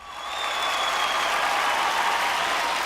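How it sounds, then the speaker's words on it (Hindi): An audience at a show breaks into loud, sustained applause that swells within half a second and holds as a dense wash of clapping, with no one speaking over it. "तो नारी शक्ति के लिए एक बार जोरदार तालियां हो जाए।"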